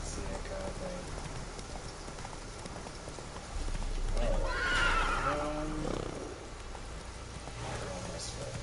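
A horse in The Witcher 3 whinnies loudly in a rising, wavering call midway, preceded and followed by steady clip-clop of hooves, with rain-like hiss and a voice speaking underneath.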